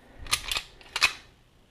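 Dry-fire test of a Sig Sauer P220-series pistol's double-action trigger fitted with a short reset trigger kit: a few sharp, close mechanical clicks and snaps in quick succession, then quiet.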